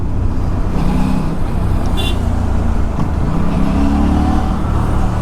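A 457 motorcycle pulls away under twisted throttle while commuting through city traffic, its steady engine drone loud and continuous throughout.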